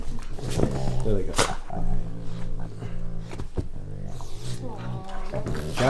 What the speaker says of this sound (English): I have 2 dogs, and they literally do this all day. There they go.